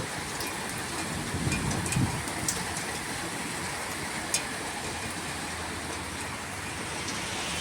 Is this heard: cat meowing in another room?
no